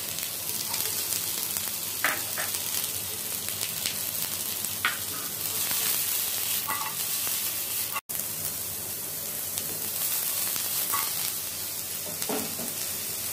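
Baby corn and carrots sizzling in a pan for a pan pizza, a steady crackling fry with occasional stirring scrapes, close and continuous, with no voices.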